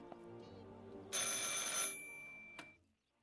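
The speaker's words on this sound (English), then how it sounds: "I should pick up the phone but remain silent." A telephone rings in the video game Martha Is Dead, one loud bright ring burst standing out clearly over a low ambient drone, followed by a brief click.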